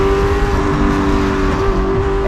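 A race car on a track holds a loud, steady engine drone with a strong sustained tone, heard close up and alone without any pauses.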